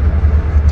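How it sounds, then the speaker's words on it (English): A car engine idling as it warms up on a cold morning, heard from inside the car as a steady low rumble, close and continuous for a brief moment. "I'm waiting on my car to warm up"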